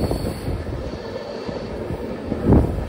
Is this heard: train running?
yes